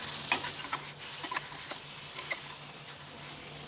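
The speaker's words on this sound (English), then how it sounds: "Once you hear the sizzle, open the pan." Quiet, steady sizzling of chicken frying in a pan, with scattered crackles and light ticks over a low hum.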